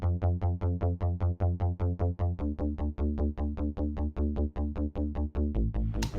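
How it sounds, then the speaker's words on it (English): A synth bass pulses in fast, even sixteenth notes, each short and punchy, shifting pitch every few bars in a steady driving rhythm. "it's just playing 16th notes throughout the whole chorus"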